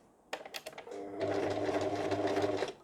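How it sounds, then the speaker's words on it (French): Domestic sewing machine stitching forward through fabric: a few hand-turned clicks of the needle, then a short steady motorized whir of stitches, near and fairly quiet. "On tourne le volant vers soi pour piquer l'aiguille dans le tissu et on fait quelques points en avant."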